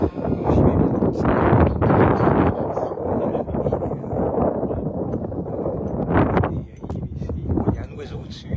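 Steady wind at an outdoor glider field during an F3K hand-launch glider contest, a continuous broadband rush and buffeting on the microphone that runs throughout, with a person talking over it.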